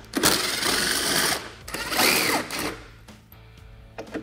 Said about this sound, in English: removing the following four T40 Torx from the bed